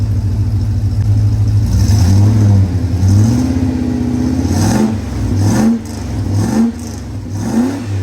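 A VK Commodore engine revs repeatedly through a 2.5 inch catback exhaust with a cat fitted, rising and falling in several close, loud, fairly subdued blips over a steady idle.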